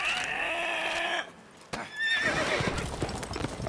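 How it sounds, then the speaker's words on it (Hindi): A horse whinnies loudly in the Witcher 3 video game, followed after a brief pause by rapid hoofbeats galloping off, with game sound effects layered over it. "तो घोड़े को भगा दिया"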